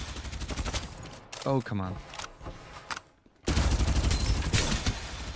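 Rapid automatic gunfire in the video game Farlight 84, loud bursts of fast shots that pause briefly while someone speaks, then resume in a sustained stream.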